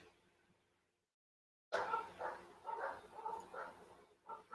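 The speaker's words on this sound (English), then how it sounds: "Why are my dogs barking again?" Dogs bark at home after a near-silent pause, a run of loud, close barks in an uneven rhythm that continue to the end.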